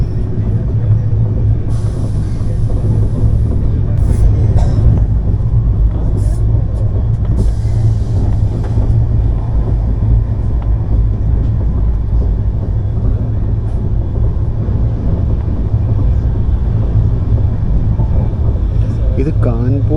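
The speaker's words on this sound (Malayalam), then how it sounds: "ഏതോ ഒരു അൺനോൺ ട്രെയിൻ, വാഗണൈനായിരുന്നു. ICF coaches." A passing train with ICF coaches, heard from inside the moving Tejas Express AC chair car, a heavy continuous rumble and rushing clatter under a person's speech.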